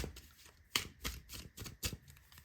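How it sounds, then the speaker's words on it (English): Tarot cards being shuffled give several crisp, papery bursts in an uneven rhythm, close and fairly quiet, with no talking. "let me shuffle again"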